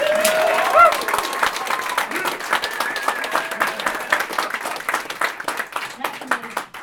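Audience applause greets a speaker called up at a Startup Grind event, a dense patter of claps with a faint tonal voice near the start, steady then thinning toward the end.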